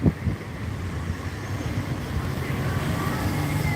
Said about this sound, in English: I think it's a little too windy for you guys.